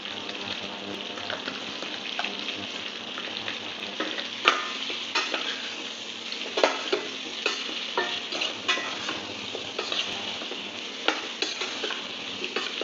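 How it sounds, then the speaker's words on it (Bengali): Raw sweet mango pieces fry in a pan with salt, turmeric and roasted spices for chutney, a soft steady sizzle broken by repeated clicks and scrapes of stirring. "সেই অবস্থাতে কাঁচা মিঠে আমগুলো এভাবে কষিয়ে নেব।"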